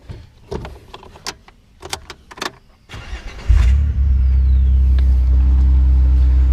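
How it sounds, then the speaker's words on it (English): A Jeep with an upgraded key: some clicks and small handling noises, then the engine starts with a loud surge and settles into a strong, steady revving rumble that holds to the end. "Let's rev her up a little bit, see what she sounds like."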